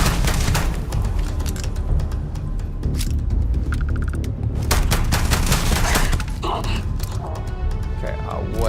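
Gunfire from a gun in Starfield rattles in dense, rapid bursts with loud repeated cracks throughout. Faint game sounds sit underneath, and brief electronic tones appear midway.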